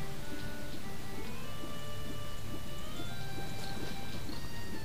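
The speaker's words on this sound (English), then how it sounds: "It's like raining." Steady rain falling in The Legend of Zelda: Majora's Mask (GameCube version), a continuous wash of drops and patter with a faint low rumble, running unbroken and alone throughout with no voices.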